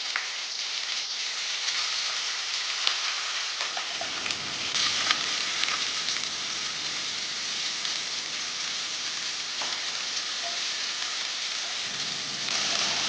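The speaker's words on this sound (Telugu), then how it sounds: "ఈ ఉల్లిపాయలు ఒక 2 to 5 minutes ఫ్రై చేసుకోవాలి గోల్డెన్ బ్రౌన్ కలర్లో." Onions and curry leaves sizzle steadily in a hot pan for a Chettinad pepper chicken, a dense, even crackle with occasional louder pops throughout and no talking.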